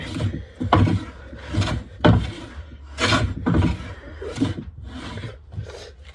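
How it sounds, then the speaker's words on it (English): A hand planer shaving a piece of wood clamped in a vise, about eight loud, close rasping strokes in an uneven back-and-forth rhythm with no talking. "Put it in the vise again. Run the planer along it."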